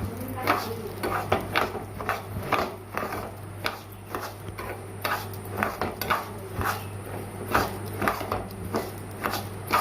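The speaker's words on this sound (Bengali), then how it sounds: "হালকা এই চালকে ভেজে নেব।" Rice is lightly fried over low gas, stirred in a pan with repeated scraping and rattling strokes at an irregular rhythm, over a steady low hum.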